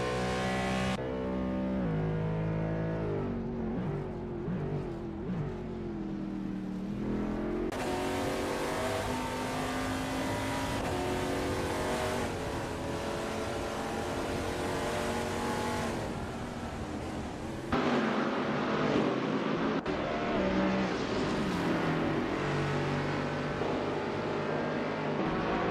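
2015 Jaguar F-Type GT3 race car in a racing video game, engine loud and continuous, pitch climbing and dropping through repeated gear shifts, with no talking.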